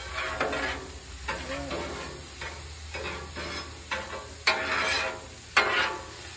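Butter sizzles and fries in a hot pan, a steady hiss broken by stirring scrapes and a couple of louder bursts, heard up close without talking.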